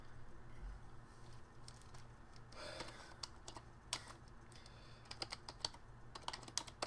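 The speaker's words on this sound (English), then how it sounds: "you'll see why I'm typing this" A computer keyboard is typed on up close, with quick irregular clicks coming in bursts over a soft background hum.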